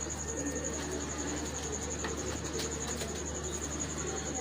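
A pigeon on a rooftop loft coos softly and steadily against a constant background hum and faint high-pitched ambient noise, with no talking.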